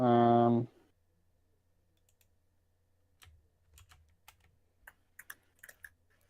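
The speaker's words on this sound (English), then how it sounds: "I'm typing something out." Someone types on a computer keyboard in short irregular bursts of soft clicks, close but faint, after a brief loud voiced sound at the start.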